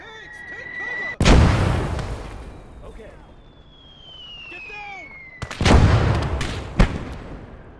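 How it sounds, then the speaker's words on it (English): Enemy mortar fire in the Gates of Hell video game, two heavy close blasts with long rumbling decay, separated by a few seconds and followed by a sharper crack, with a whistling incoming shell and distant battle noise between. "The enemy mortars keep pinning us down, but we are not losing hope."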